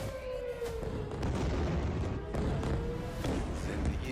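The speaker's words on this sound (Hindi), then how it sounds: "किस तरीके से लगातार धमाकों की आवाज पूरे इलाके में सुनाई दे रही है" Explosions from an Israeli missile attack on Tehran: a continuous, distant rumble with dull booms, a faint wavering tone drifting over it, recorded from afar.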